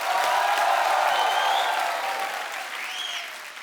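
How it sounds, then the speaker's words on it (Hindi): A studio audience at a comedy talk show claps loudly for Akshay Kumar, a dense burst of applause that gradually eases off, with faint whistle-like tones riding above it. "अक्षय पाजी के लिए जोरदार तालियां हो जाए एक बार"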